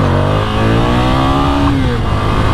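A Ducati Scrambler Icon motorcycle accelerating hard in first gear, its engine note rising steadily, loud and close throughout.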